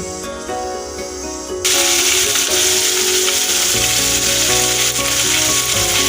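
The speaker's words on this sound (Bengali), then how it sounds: "তেল গরম হয়ে গেছে। আমি মাছগুলোকে হালকা করে ভেজে নেব।" Fish hits hot oil and a loud, steady sizzle erupts, crackling continuously after a quieter start with background music.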